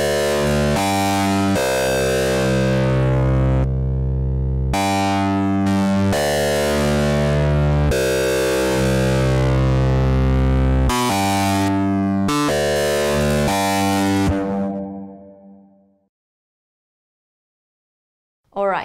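A synth sound is played through the MS-20 filter plugin's distortion module, producing a series of loud, buzzy, harmonically rich sustained tones in separate blocks, ending abruptly and leaving a short silence.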